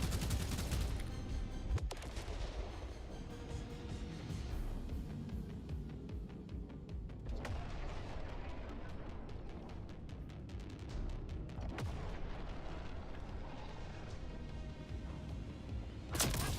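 Gunfire in The Expanse video game: a few sharp, loud cracks stand out over a rumbling, busy battle backdrop of distant shots and low booms.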